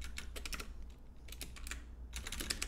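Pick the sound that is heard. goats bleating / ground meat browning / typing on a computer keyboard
typing on a computer keyboard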